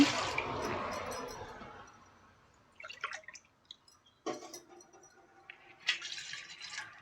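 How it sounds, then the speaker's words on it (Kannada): Water splashes and trickles into a metal pot on a gas stove in a few bursts, two glasses poured with gaps of quiet between pours and a short drip at the end. "ಇದಕ್ಕೆ ಎರಡು ಲೋಟ ನೀರು ಹಾಕ್ತಾ ಇದ್ದೀನಿ"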